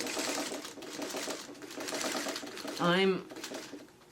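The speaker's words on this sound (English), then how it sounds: "I'm sewing right over my pins" A home sewing machine stitches straight over pins left in the fabric of a curved seam, its motor running steadily beneath continuous talk, with a brief squeaky rise near the end.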